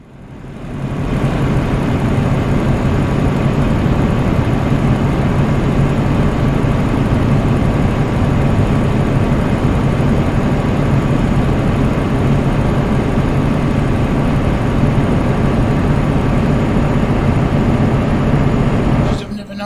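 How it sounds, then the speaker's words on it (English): A heavy truck engine drones in Euro Truck Simulator 2 as a steady loud rumble with road noise that holds unbroken for the whole stretch. "The truck could do with some repairs by the sounds of that"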